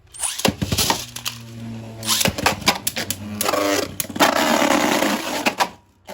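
Two Beyblade Burst tops, King Helios and Belial, battle with a steady whirring spin broken by sharp, repeated clashing cracks, loud and close, with louder grinding near the end.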